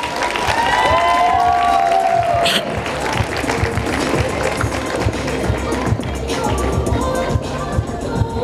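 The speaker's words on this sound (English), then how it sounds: "One more round of applause for him." An audience at a high school prom fashion show gives a loud round of applause mixed with cheers and a few shrill shouts, steady clapping carrying on throughout.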